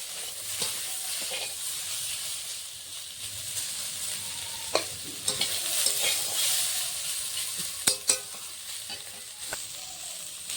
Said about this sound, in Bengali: এখানে আমি সবজিটা ভেজে নিচ্ছি